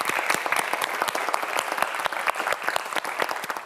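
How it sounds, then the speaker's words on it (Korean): A small TV quiz show studio audience claps in a brisk, uneven patter, individual hand claps distinct and close, continuing steadily without pause. "큰 박수 부탁드립니다"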